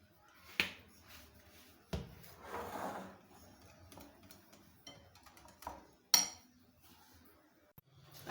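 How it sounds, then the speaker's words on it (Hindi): A frying pan set down on a kitchen stove while making sweet egg paratha gives a few sharp metallic clanks and clinks spaced apart, fairly quiet with soft handling noise between. "अब ये मैंने पैन रख लिया है।"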